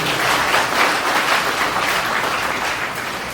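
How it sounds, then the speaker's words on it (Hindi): An audience at a school honours programme breaks into strong, sustained applause, a dense wash of many hands clapping that eases off slightly toward the end. "उनके लिए भी जोरदार तालियां।"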